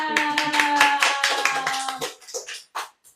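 An audience of mothers at a small-business talk clapping briskly in an even patter at close range, then tapering off into a few last scattered claps.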